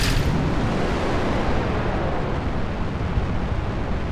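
Solid fuel rocket launching in the game Kerbal Space Program, a sustained loud rumbling roar that starts abruptly and holds steady for several seconds without speech.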